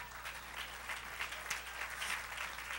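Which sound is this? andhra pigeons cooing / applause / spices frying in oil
applause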